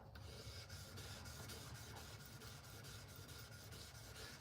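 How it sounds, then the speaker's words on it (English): Steady abrasive rubbing of a kitchen knife blade against sandpaper, a continuous rasping scrape with regular back-and-forth strokes, close up. "I'm like sanding this thing, I'm also sharpening it"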